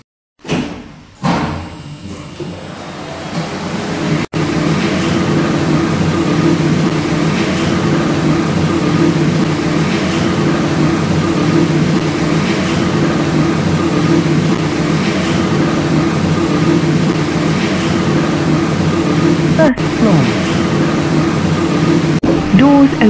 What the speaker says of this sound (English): Lift going down.